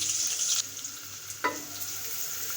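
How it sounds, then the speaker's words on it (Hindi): Sliced onion frying in hot oil with cumin on high heat for aloo gosht: a steady loud sizzle, close up, broken by a brief stirring scrape partway through, with no talking. "प्याज को हमने फ्राई करना है गोल्डन ब्राउन होने तक।"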